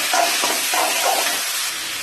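Onions frying in a pan for a prawn thokku as ripe tomatoes go in, giving a steady, close hiss and sizzle with faint scraping, continuous for about two seconds.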